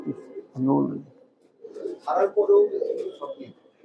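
Game and tournament pigeons coo in a few short, low bursts close by, with people talking in between.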